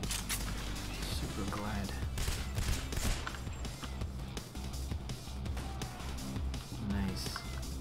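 Continuous gunfire in the heist shooter Payday The Heist, with rapid shots and sniper fire crackling throughout under someone talking over the action.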